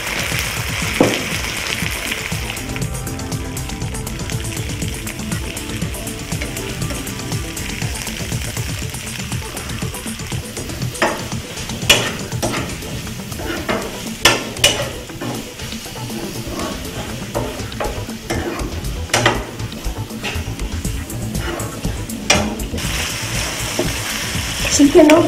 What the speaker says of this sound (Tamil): வெங்காயம் நல்லா பிரவுன் ஆன உடனே நம்ம சிக்கன் போட்டுக்கணும்.